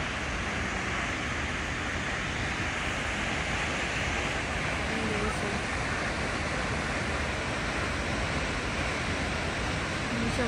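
Brandywine Falls pours in a steady, dense broadband roar, constant and full throughout with no pauses, like heavy water crashing nearby; faint voices seem to sit buried under the rush.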